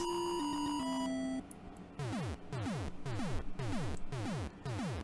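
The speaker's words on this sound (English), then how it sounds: "we're gonna get our first set of fireworks" Electronic Super Mario Bros. game tones step down in pitch, then a rapid series of whistling, descending pops bursts repeatedly like synthetic fireworks, six in all.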